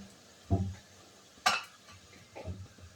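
A paste of onion, garlic, ginger and tomato being stirred in a pan with no oil, giving three soft, brief scrapes and clinks of a spoon against the pan, close and quiet with no talking.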